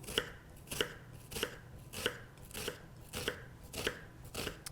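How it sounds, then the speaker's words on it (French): A knife slices a peeled vegetable on a cutting board while prepping penne carbonara, giving about eight crisp, evenly spaced chops close up with no talking. "Je coupe la tête et ensuite je réalise des tranches comme ceci sans aller jusqu'au bout."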